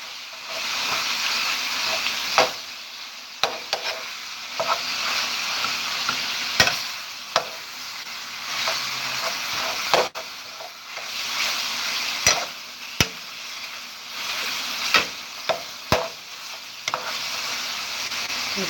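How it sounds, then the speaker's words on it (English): Meat and vegetables frying in a pan, a steady close hiss of sizzling with repeated scrapes and knocks of stirring scattered throughout, no talk. "we're actually going to throw our vegetables in"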